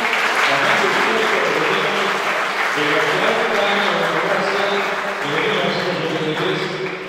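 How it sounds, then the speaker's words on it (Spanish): Loud, sustained applause from a crowd at an inauguration of local authorities in Río Bamba, Argentina, with voices and cheering mixed into the clapping throughout. "Fuerte el aplauso"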